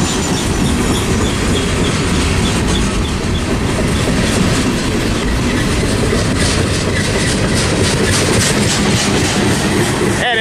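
Close and loud, a freight train with Santa Fe boxcars keeps rolling by near Tehachapi, wheels clattering in an unbroken rhythm with occasional squeals, while someone talks faintly under the noise.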